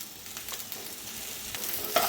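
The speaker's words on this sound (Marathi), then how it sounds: "आता मिक्स करून भाजूया छान भाजून घेऊया" Okra stirred and roasting in a hot pan, a continuous sizzle broken by light scraping strokes of the spoon, close and fairly quiet, with no voices.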